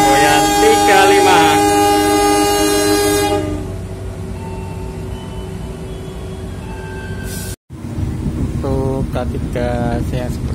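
Indonesian KA Joglosemarkerto passenger train sounds a long, loud, steady horn blast (signal 35) over the rolling rumble of the modified K3 coach, followed by continuous track noise and a faint voice.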